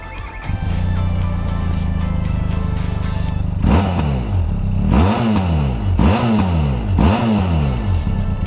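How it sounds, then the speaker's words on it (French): A 2023 Benelli TRK 502 X motorcycle idles with a low burbling stock exhaust, then is revved hard four times in quick bursts, each climbing and falling back. "je vous fais écouter le son de la ligne"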